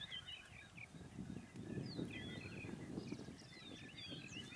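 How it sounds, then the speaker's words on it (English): Several birds call and chirp in the distance outdoors in sandy terrain, high thin notes scattered over a steady low rumble of wind or movement. "you hear a lot of birds calling at the moment"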